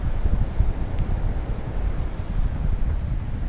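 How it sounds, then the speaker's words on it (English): Wind blows at a Miami beach, a steady rumbling buffet of gusts across the microphone with no talk. "Kind of windy out here by the beach today"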